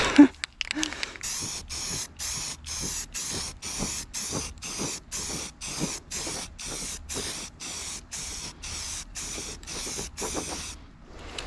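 Paint sprays in regular short bursts onto a BMW E36 during its first coat, each hissing pass about half a second long and separated by brief gaps, close and fairly loud with no talking.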